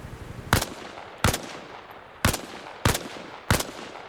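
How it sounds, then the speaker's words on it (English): Rifle shots fired at targets in the video game Arma Reforger from a kneeling position, five sharp loud cracks at roughly even intervals, each with a short decaying tail, and no voices. "Try again, only this time fire from a kneeling position."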